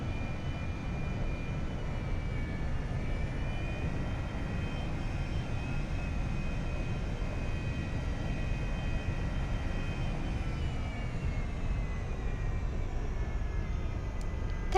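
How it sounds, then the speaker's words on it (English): An Airbus A320 engine roars in the X-Plane flight simulator during pushback, a steady droning whine with a faint tonal note that sweeps slowly, moderately loud and continuous for the whole stretch. "excuse the loud engine roaring"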